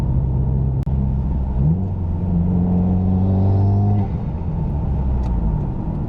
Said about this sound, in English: I've been waiting for that sound since I bought this car.